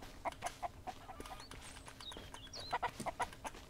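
A chicken in the survival game Mist Survival clucks in repeated short bursts over a quiet ambient background, with some higher chirping bird calls mixed in and no talking.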